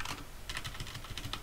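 A short, quick run of keystrokes on a computer keyboard, as a command is typed into a Python command line, sits at a moderate level over a steady background hum.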